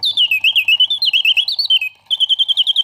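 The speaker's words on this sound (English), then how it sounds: "The bird sings with full voice, hitting all the proper oscillating notes." A vintage Karl Griesbaum enamel mechanical singing bird box warbles loudly and close, its whistled song rising and falling in rapid oscillating notes with a steady pulsing rhythm, pausing briefly before resuming.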